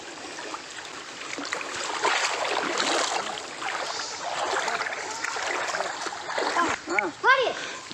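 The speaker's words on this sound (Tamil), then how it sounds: "நம்ம போகிற வழியில் தண்ணி நீரோடை சூப்பராக போயிட்டுருக்கு பாருங்கள்." A water stream flows beside a mountain footpath on the way to a hillside temple, a steady broadband rush and splash throughout, with brief voice-like sounds near the end.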